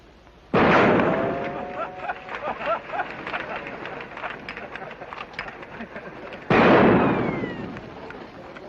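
Gunfire in a 1950 action film set around Tripoli, two sharp loud blasts about six seconds apart, each with a ringing decay, separated by clattering and background voices.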